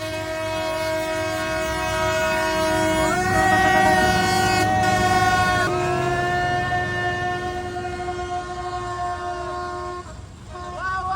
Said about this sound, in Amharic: በመሃል ባቡር መጥቷል ሰው ሁሉ እየጠበቀ ነው